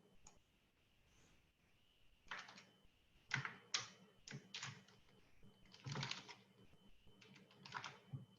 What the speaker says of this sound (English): Oops, hang on, I can't see what I'm typing.